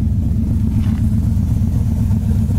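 A 1970 Camaro's engine runs with a steady, heavy low rumble, close and loud, holding an even idle-like drone with no clear rev rise and no talk.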